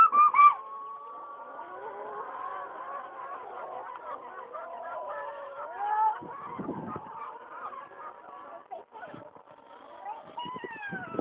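Chickens squawk and cluck in a busy, overlapping chorus that runs the whole time, with occasional louder squawks and a voice talking in between.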